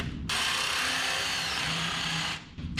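Power drill with a carbide bit cutting through the metal of a Harbor Freight welding cart, one steady loud whirring burst lasting a couple of seconds before stopping abruptly.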